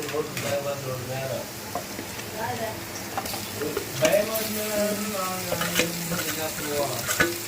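Something fries in a pan, a steady sizzle with stirring scrapes and clinks, while voices talk over it throughout.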